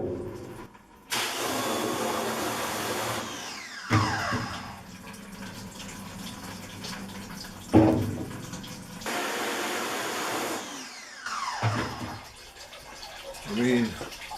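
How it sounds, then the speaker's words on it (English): Water spraying onto a screen printing screen to rinse out uncured emulsion, several loud bursts of spray separated by quieter dripping gaps, with some talk. "Let the water soak in, loosen up the uncured emulsion."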